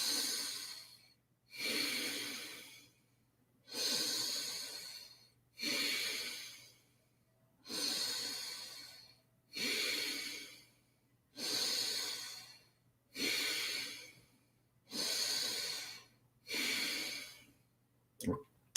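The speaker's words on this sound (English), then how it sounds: "You can breathe in and out of your mouth if you need to switch" During a breathwork exercise, a person takes deep breaths in and out in a slow, steady rhythm, about nine close, airy breath cycles separated by short pauses, with a low hum underneath.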